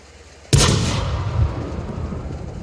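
A tank cannon fires once in the World of Tanks video game, a sudden loud blast with a long rumbling decay that tails off over a couple of seconds.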